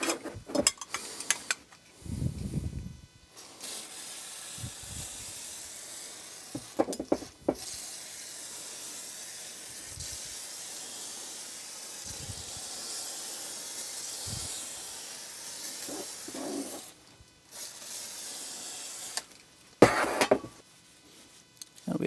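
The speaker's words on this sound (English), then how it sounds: "We'll start by just spraying it and letting it soak." Aerosol can of VD40 cleaner spraying onto the fader plates of a Jade mixing console, a steady broadband hiss held for long stretches, broken by short pauses and a few clicks and handling knocks, close and fairly loud.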